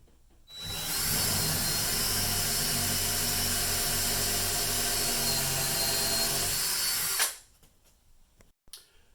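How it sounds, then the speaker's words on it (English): A power drill with a 1/4 inch bit bores a pilot hole for a lag bolt when hanging a porthole mirror, a loud steady whine lasting about six seconds that then spins down and stops. "So I need to drill a pilot hole for that lag bolt"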